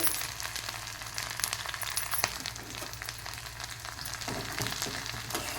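Curry leaves frying in hot peanut oil give a bright, steady sizzle and crackle with scattered pops and a faint clink of utensils, close up with no talking.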